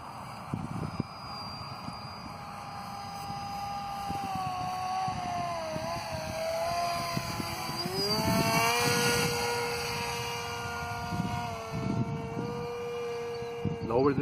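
Distant MIA EZ 1.25 RC microlight aircraft motor in flight, a thin whining drone that rises and falls in pitch as throttle changes, with wind noise and someone talking intermittently.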